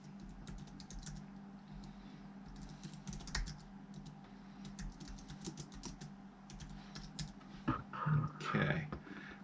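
Fingers typing a password on a Mac Mini computer keyboard, quiet irregular key clicks in short bursts over a low background hum, with a couple of louder taps near the end.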